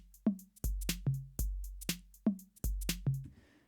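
A simple demonstration drum beat made in Ableton Live plays cleanly, with punchy kick and snare hits and short hi-hat ticks in a steady loop, with no voices.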